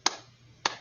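Two sharp, isolated hand claps about half a second apart, crisp and close, with quiet between them.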